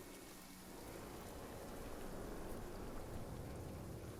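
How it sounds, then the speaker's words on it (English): Steady heavy rain pouring in Middle-earth: Shadow of Mordor, a continuous broadband hiss of downpour with a faint low rumble beneath, holding even and loud throughout with no voices. "you can still see like the rain pouring off of the walls"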